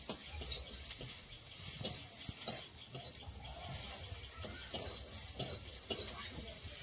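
Soft sizzling of prawns frying in a pan, with occasional clicks and scrapes of stirring, fairly quiet and close.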